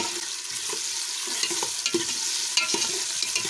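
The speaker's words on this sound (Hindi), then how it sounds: "थोड़ी देर के लिए हम भून लेंगे" Tomatoes and green chilies fry steadily in a pan for moong dal, with a continuous sizzle broken by the scrape and clatter of stirring, close and alone without talk.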